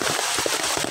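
Rain falls outdoors during a solo mud crab hunt, a steady close patter with scattered sharper drops over a brief moment.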